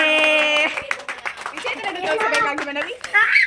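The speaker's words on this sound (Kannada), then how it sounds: "ಚಪ್ಪಾಳೆ." Family members clap for the winner of a guess-the-juice challenge at home, with quick close claps mixed with chatter and light laughter.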